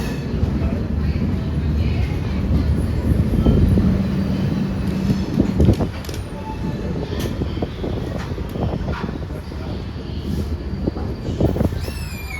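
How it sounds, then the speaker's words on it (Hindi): The Kochuveli Express pulls out of New Delhi station with a continuous low rumble and rolling rail noise, along with faint station ambience and murmuring voices. "कोचुवेल एक्सप्रेस का न्यू दिल्ली से डिपार्चर हो रहा है"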